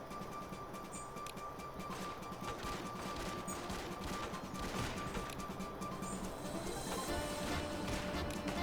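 Gunfire from a group focusing fire in the video game Bounty Train, a steady low-level crackle of shots and impacts running continuously beneath game ambience.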